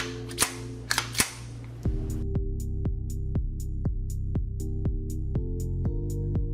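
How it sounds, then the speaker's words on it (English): Sharp metallic clacks of a freshly oiled gun slide being racked back and forward, a few quick snaps at first, then a steady series of evenly spaced clicks, close and crisp with a faint hum behind. "We have to slide it back and forward to ensure the gun oil is everywhere."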